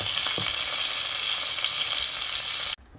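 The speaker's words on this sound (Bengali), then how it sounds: "এটা একদম গোল্ডেন ব্রাউন করে ভেজে নেব।" Potato pieces frying golden brown in oil with a pinch of turmeric in a kadai, a steady loud sizzle throughout that cuts off abruptly near the end.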